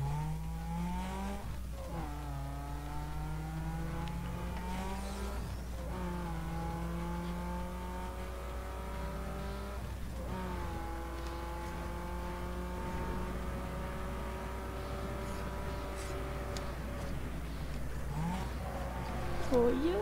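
A race car in Need for Speed Underground 2 revs through repeated gear shifts, each climb in engine pitch dropping sharply before rising again, with a steady low hum beneath and a brief tire squeal near the end.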